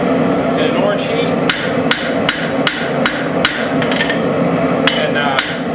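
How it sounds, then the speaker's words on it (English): A hammer strikes a hot iron and steel San Mai billet at orange heat, tightening it before forge welding; sharp, loud metallic taps land roughly every half second over a constant forge roar. "I just kind of tapping everything tight in an orange heat"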